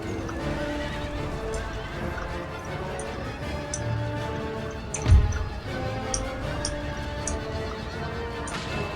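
Cavalry horses charging in the video game Empire Total War, with dense clip-clop hoofbeats, repeated neighs and whinnies over a steady battle din, plus a single louder crash midway.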